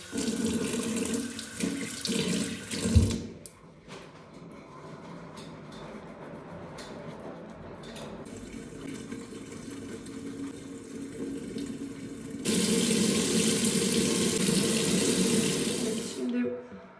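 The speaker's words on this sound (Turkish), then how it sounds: "Şimdi hemen yüzümü yıkayayım hızlıca." A tap runs into a sink during face washing, a steady splashing stream that is interrupted by a thud and quieter handling before the flow comes back strong and loud, then stops.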